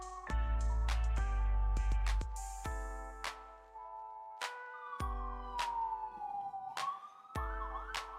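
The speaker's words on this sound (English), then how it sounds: "Wow, that is a very loud siren." A loud emergency siren wails with rising and falling tones behind music and sharp percussive hits, continuing steadily throughout.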